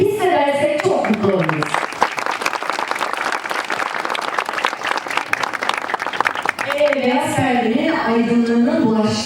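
A festival crowd at an opening ceremony breaks into loud, sustained applause, dense clapping filling the space for several seconds while music with a melodic line plays at the start and again near the end.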